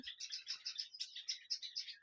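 A dense, steady twittering of many Java sparrows chirping together in a colony, high-pitched and continuous, like a busy flock nearby.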